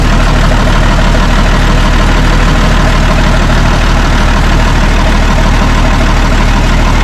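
The engine of a 50-year-old International 6x6 army truck runs close and very loud, a dense, steady, throbbing idle that fills the whole stretch.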